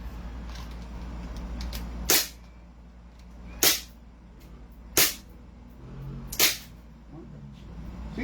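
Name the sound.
Beretta pistol gunshots at firing range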